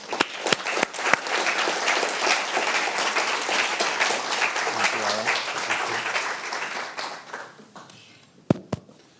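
Audience applause greets a guest speaker at a university lecture hall, a dense, steady clapping that swells for about eight seconds and then tapers off to a few scattered final claps.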